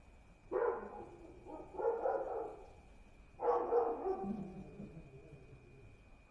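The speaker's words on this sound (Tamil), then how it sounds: "இந்த மாதிரி நாய் தொல்லை இருக்குங்க பயங்கரமாக." Street dogs barking at night while a delivery rider passes on a motorbike: three separate bouts of barking and yelping at a moderate distance, over a faint steady hum.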